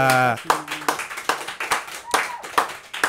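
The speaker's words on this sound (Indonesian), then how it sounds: "Tepuk tangan dulu dong semuanya buat Oza." A small group claps in a quick, uneven rhythm for a guest named Oza, about eight sharp bursts, after a brief voice at the start.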